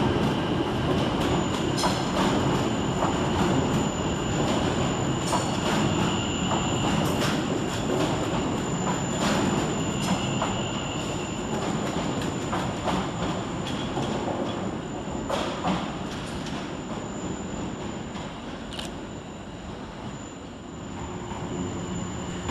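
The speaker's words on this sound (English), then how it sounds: "Quickly following on his heels is 720-558 with the 1447 Greater Anglia service to Braintree." Greater Anglia Class 720 electric multiple unit departing London Liverpool Street station for Braintree, a steady loud rumble of wheels and traction with rail clatter and squeal, fading slightly toward the end, no voices.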